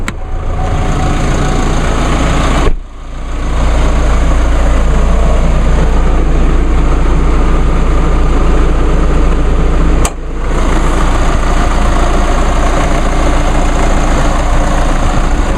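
A 2.8-liter four-cylinder Duramax turbo diesel in a pickup truck idles steadily with a loud, constant low rumble and diesel clatter, broken by two brief dips in level, with no talking.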